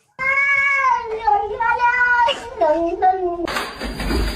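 A cat meows repeatedly in long, drawn-out, pitch-sliding cries, loud and close, with a burst of broadband noise near the end.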